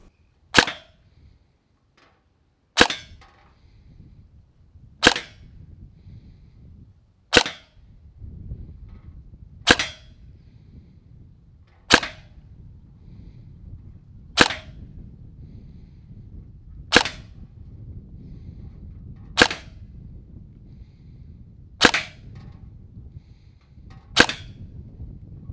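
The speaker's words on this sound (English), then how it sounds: "But now let's chrono the blaster. First, testing Ausgel Ultra Elites." A gel blaster fires Ausgel Ultra Elites gel balls as a series of about eleven sharp, isolated snaps spaced roughly two seconds apart, with a faint low hum between shots.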